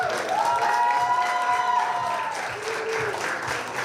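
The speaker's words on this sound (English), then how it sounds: "Once again, round of applause to Mikk Parre." Audience applause with some cheering at the Estonian Best Sommelier 2023 awards, a loud, sustained crowd clapping throughout, with a voice carrying over it.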